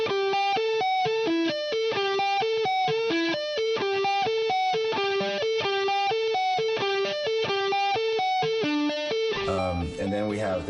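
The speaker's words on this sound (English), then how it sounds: "So you can get power amp distortion at bedroom level" AFD100 guitar amp with power amp distortion at bedroom volume, playing a steady rhythmic riff of repeated distorted guitar notes that is loud and close, with a brief change in texture at the end.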